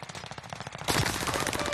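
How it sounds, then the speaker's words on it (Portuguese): Automatic gunfire in an online shooter game, sparse at first, then a dense, loud, sustained burst of rapid shots. "Estão atirando em mim."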